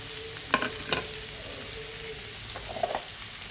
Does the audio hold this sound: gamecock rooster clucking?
no